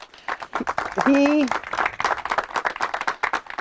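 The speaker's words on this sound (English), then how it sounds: "big round of applause for Tom" Attendees at a Kentucky Flat school dedication ceremony applaud a retiring trustee, a brisk, close run of clapping that carries on throughout while voices call out briefly over it.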